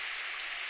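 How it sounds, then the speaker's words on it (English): Steady, dense rain hisses evenly in a Steins;Gate game scene, a continuous wash of falling drops with no other sounds. "雨が降ってきてるぞ。"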